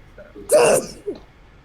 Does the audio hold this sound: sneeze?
yes